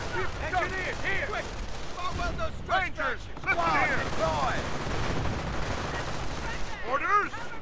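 Dense gunfire and explosions from the video game Company of Heroes, with repeated cracking shots, bursts and booms over a constant battle din, and voices calling out amid the noise.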